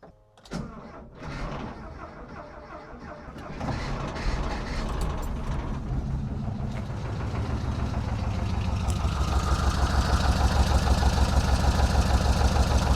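A 1970 Volkswagen single-cab Bay Window Bus engine cranks with mechanical clatter, catches, and settles into a steady, loud idle that builds slightly as it runs.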